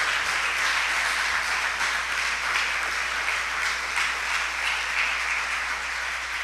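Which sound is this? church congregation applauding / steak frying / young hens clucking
church congregation applauding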